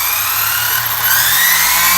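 A Traxxas Slash 4x4 RC car with an on-road conversion whines with a high, steady electric motor pitch, loud and close, rising slightly in the second half with no talking.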